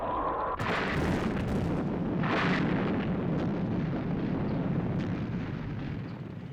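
Loud, sustained missile fire and explosions from a Thunderbirds rescue scene: rumbling bursts and blasts roll continuously, with a sharp crack early on and a gradual fade toward the end.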